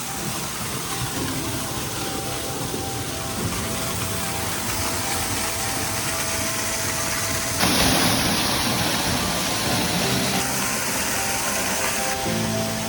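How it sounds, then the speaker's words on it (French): La Chorrera waterfall in Colombia, a loud, continuous close-up roar of falling water that swells slightly partway through as the listener moves nearer. "On s'apprête à aller sous cette cascade."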